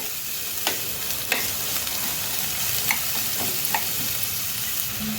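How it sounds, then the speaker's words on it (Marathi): Onion sautés in oil in a pan over medium heat for schezwan fried rice, a constant close sizzling hiss with a few light spoon scrapes as it is stirred, no speech. "तो परतून घेऊया मऊ होईपर्यंत"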